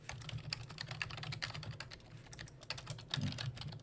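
Steady, close clatter of someone typing on a computer keyboard while writing Matplotlib plotting code, with rapid keystrokes in uneven bursts and no talk.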